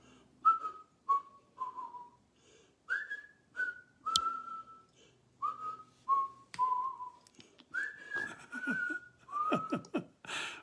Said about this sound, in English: the whistling part, that's a long song